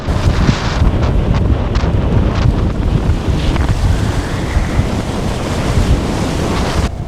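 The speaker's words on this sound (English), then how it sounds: "The waves came crashing in one after the other," Storm waves crash repeatedly against a sailboat at sea while strong wind roars and buffets the microphone, a loud, continuous rush of water and gusts with surging impacts and no voices.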